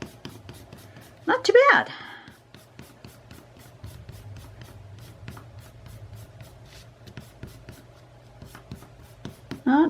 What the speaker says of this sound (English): Okay, let's erase.